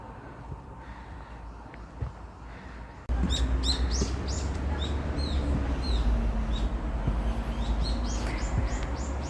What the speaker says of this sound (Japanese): 鳥の鳴き声も聞こえるし、